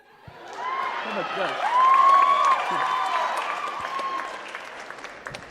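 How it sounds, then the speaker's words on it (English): Audience applause and cheering at a pageant: a swelling wash of clapping from a large crowd, with whoops and a voice rising above it, gradually fading. "how about another round of applause for our on-stage questions"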